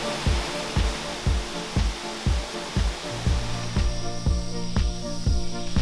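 Tongkhoi waterfall deep in the Khao Sok jungle of Thailand, a steady broadband rush of falling water close by, with a regular run of low thumps and knocks layered over the continuous roar.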